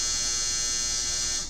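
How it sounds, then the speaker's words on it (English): A clothes dryer's end-of-cycle buzzer sounds as a steady, loud electric buzz lasting over a second before cutting off, alone without talk. "I forgot to warn you that the dryer was on and it may buzz at any time"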